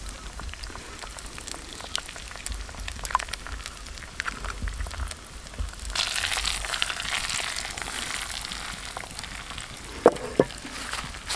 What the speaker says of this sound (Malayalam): മുട്ട പൊട്ടിക്കുകയാണ്.